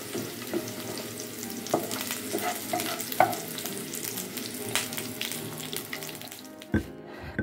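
Tempeh frying in hot oil while being stirred, a steady dense sizzle with scattered clicks and scrapes of the utensil against the pan, close and continuous, with a brief pause near the end.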